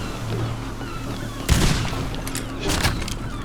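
Ship cannon fire in the pirate video game Blazing Sails lands as a heavy boom partway through, followed by a second rumbling blast over a constant noisy sea and wind bed.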